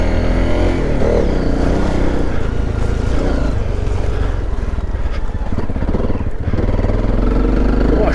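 An off-road motorcycle on Pirelli XC Mid Hard tyres chugs at low revs through swampy water, its engine loud and close with a steady throbbing drone and slight splashing, no talk.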